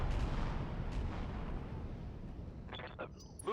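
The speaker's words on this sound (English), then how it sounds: "So the Stinger land air mech positions behind the hoplite and drops bombs." Bombs from a Stinger land-air mech in the RogueTech game hit the ground as a rolling, rumbling barrage of deep blasts, followed by a few sharper crackling bursts near the end.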